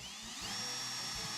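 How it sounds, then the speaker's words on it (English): A power drill pre-drills holes in parts for an off-grid shed roof, its motor whirring steadily and loudly for the whole stretch with a high whine on top. "Just pre-drilling this so it's easier when we get on the roof and everything lines up nice too."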